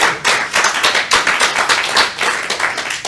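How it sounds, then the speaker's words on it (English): A small audience claps in congratulation after a quiz on UFO sightings, a few hands beating in a brisk uneven rhythm for about three seconds, close and fairly loud. "Yeah, big round of applause"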